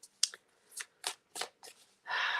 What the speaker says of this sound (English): I can't talk while I shuffle.